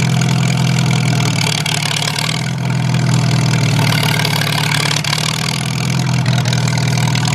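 A Farmall tractor engine idles steadily and loud, a strong low rumble holding evenly for the whole stretch with no voices over it.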